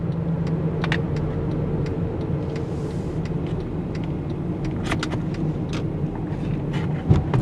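A car driving along a road past restaurants near an exit, with steady engine and tire rumble throughout, occasional faint clicks, a brief louder thump near the end, and no talking.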